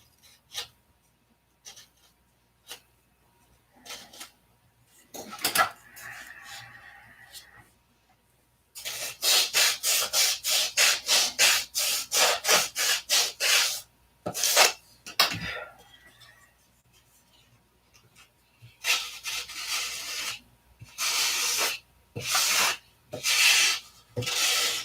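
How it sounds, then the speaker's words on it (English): Rough rasping and scraping as excess wood is trimmed from a skin fitment, coming in quick rhythmic bursts of strokes, close and fairly loud, with quieter pauses between runs. "I'm just trimming some of the big stuff off so I don't have to sand as much."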